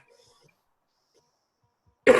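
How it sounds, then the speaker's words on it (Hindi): A single loud, close cough bursts out after about two seconds of near silence, sharp and rough with a throaty edge, as from someone with a sore throat. "खांसी लग रही है यार, क्या हुआ?"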